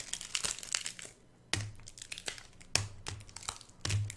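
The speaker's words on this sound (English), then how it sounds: "Oh, this packing tape." Packing tape handled up close makes bursts of sharp crinkling and crackling, with brief pauses and a few louder crunchy rustles between quieter stretches.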